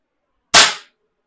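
A single sharp crack from a made-in-India underlever air rifle firing a 0.177 caliber pellet, close and loud, with a quick decay and no talk.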